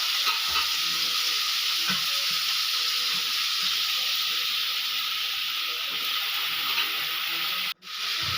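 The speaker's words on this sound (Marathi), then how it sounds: "जी रताळी आम्ही ऑलरेडी कापून घेतलेली आहेत क्यूब्समध्ये आणि त्याला चांगलं धुवून व्यवस्थित असं तेलामध्ये डायरेक्ट सोडून द्यायचं आहे" Washed sweet potato cubes fry in hot oil, a loud, steady, hissing sizzle that runs unbroken and close, with faint stirring underneath and a brief dropout near the end.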